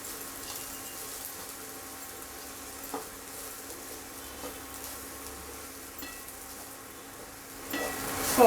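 Carrot pieces fry with ground spice powder in a pan, a soft steady sizzle with occasional light stirring scrapes, close and quiet with no talking.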